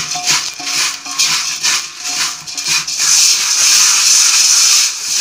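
Beaten rice flakes being stirred with salt and turmeric, giving dry rustling scrapes in short bursts at first, then a continuous close hiss of flakes shifting.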